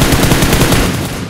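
Rapid automatic gunfire from a gun in PUBG Mobile during a tournament match: a fast, even stream of loud shots in steady rhythm, close and continuous, tapering off at the very end.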